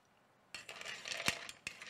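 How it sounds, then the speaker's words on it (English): A spoon stirs a cocktail in a glass, starting after a quiet moment with a run of close, bright clinks and scrapes against the glass, one louder ringing tap in the middle. "and give it a little stir."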